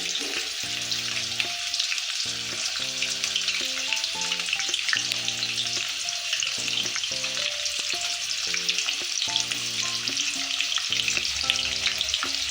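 Green chillies frying in hot oil for raw mango chutney give a constant bright sizzle, with occasional stirring and soft background music underneath.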